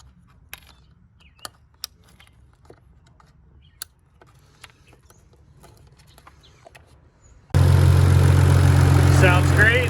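A BMW E39 wagon's turbocharged M54 engine, just repaired of a misfire, starts running after a quiet stretch of faint clicks and taps, then idles loud and steady up close for the final seconds.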